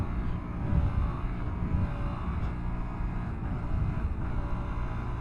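Honda Trail 125 (CT125) mini adventure motorcycle running on the road, its engine a steady low drone mixed with wind rush, close and continuous without a break.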